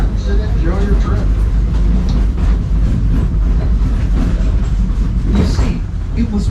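A park train ride at Disney's Animal Kingdom rolls along its rails with a loud, constant rumble and rattling wheel noise, steady throughout, with faint voices mixed into the din.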